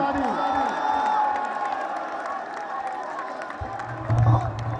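An audience at a poetry gathering applauds and cheers as a poet is introduced, with mixed crowd noise, voices and scattered clapping throughout and a brief louder swell near the end.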